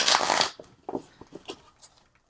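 Tarot cards being shuffled by hand: a dense riffling burst at the start, then several softer, separate slides and taps of the cards, close and quiet, with no talking.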